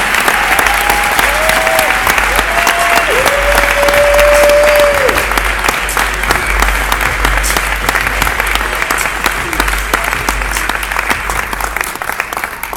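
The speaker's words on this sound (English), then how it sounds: "So with all deep sincerity, a warm round of applause" A conference audience at SXSW gives loud, sustained applause as a guest speaker walks onto the stage, a dense wash of clapping that carries steadily and tapers slightly toward the end.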